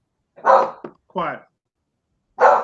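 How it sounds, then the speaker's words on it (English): Dogs give a few short, loud barks close by, separated by silence, with one sound like a brief yip. "My dogs don't like them either. My dogs hate globe earthers."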